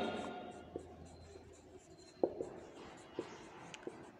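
Writing on a board during a production management lecture: soft scratchy strokes with a few sharper taps of the marker, close and quiet, with a lecturer speaking faintly in between.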